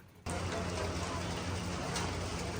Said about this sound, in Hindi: ये देखो भाई कितनी मोटी मोटी बूंदें गिर रही हैं।